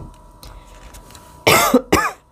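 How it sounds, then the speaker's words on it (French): Two loud coughs into a microphone, close and harsh, in quick succession after faint room noise and a low steady hum. "j'ai toussé dans le micro"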